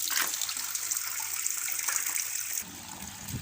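Water pours steadily into a fish tank holding young cichlids, a close splashing gush that cuts off abruptly near the end, leaving a softer trickle; no talking is heard.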